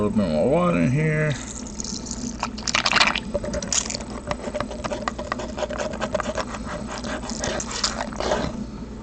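Water pours and splashes into a gold prospecting pan of garnet and gold paydirt, sloshing and gurgling in uneven bursts, with a voice heard briefly at the start.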